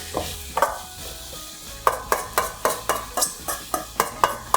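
Drumstick curry being stirred in a pan after salt goes in, with a run of rhythmic scraping strokes of a spoon against the pan over a soft sizzle, growing steady and regular in the second half.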